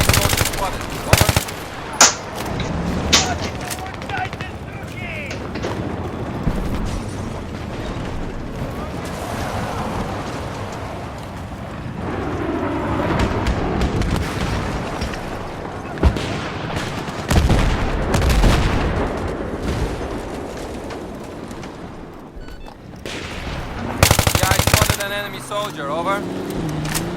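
Automatic rifle and machine-gun fire in the video game Battlefield 3, loud bursts and single shots cracking over a rumbling battlefield ambience, with a voice talking over parts of it.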